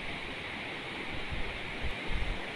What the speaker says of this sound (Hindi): ये पानी का भाई साउंड देखो कितना आ रहा है